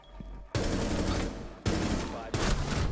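Shotgun gunfire in a video game, three heavy blasts with long booming tails, the first about half a second in and the others following at roughly one-second intervals, loud and close.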